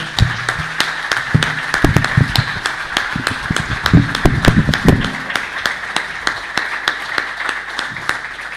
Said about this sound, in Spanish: Un aplauso nuevamente.